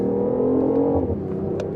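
A BMW i8 plug-in hybrid sports car accelerates hard out of a corner, its engine note rising in a steady, loud drone heard from inside the cabin, then easing off near the end.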